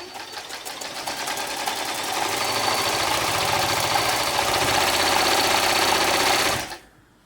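A Janome Combi two-in-one sewing machine and serger runs a tricot stitch at a stitch length near 1.5, humming steadily and loudly at close range for several seconds before stopping abruptly.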